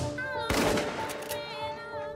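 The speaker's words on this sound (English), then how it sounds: "With each fellow that walks out of his car comes a worthy amount of gunshots, sending the men flying and fleeing the premises." A burst of rapid gunfire in a movie scene, with sharp, loud cracks crowding together over a background film soundtrack before fading back into it.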